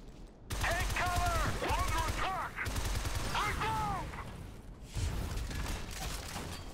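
Rapid bursts of automatic gunfire in the video game Shadow Complex, several loud volleys with short pauses between them, mixed with game effects.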